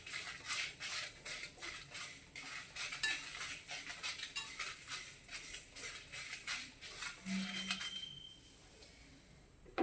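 Rice dry-roasts in a pan while a utensil stirs it in a steady run of light scraping and clinking, close but fairly quiet, fading to near silence at the end.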